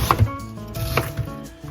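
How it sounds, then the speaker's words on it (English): A knife dices an onion on a board, giving several quick close chops in an uneven rhythm. "And that's how you dice an onion."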